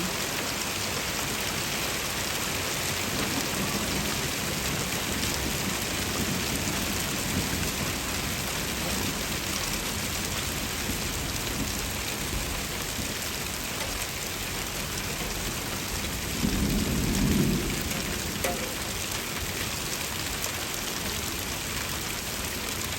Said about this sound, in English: Today's weather is literally ice coming out of the sky.